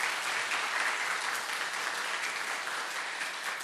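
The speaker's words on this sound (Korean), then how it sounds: "박수로 영접해 주세요." A church congregation claps warmly to welcome a couple during a Sunday service. Even, continuous applause from many hands fills the room at a steady level from start to finish.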